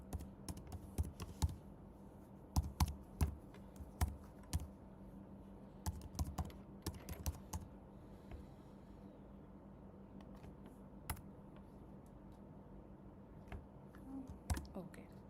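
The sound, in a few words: typing name and email on a computer keyboard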